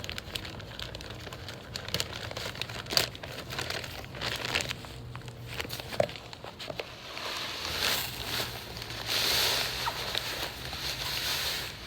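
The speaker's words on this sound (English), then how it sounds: "Just rip it open." A bag of Sunniland fertilizer is torn open and handled, giving a close, steady crinkling and crumpling of the bag with scattered rustles and small pops, no voices.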